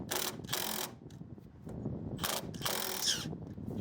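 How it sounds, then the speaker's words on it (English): A wrench turns the strut center shaft on a 2017 Dodge Charger RT front strut, giving bursts of ratcheting, clicking mechanical noise with short pauses between, close up and fairly quiet. "So I'm actually gonna be turning this center piece clockwise. And then the wrench will hold the nut."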